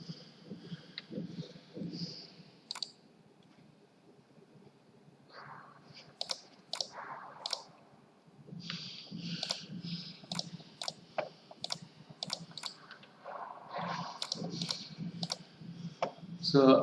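Computer mouse clicks during a PowerPoint animation tutorial, sharp and fairly faint, some single and some in quick bursts, with someone talking over and between them.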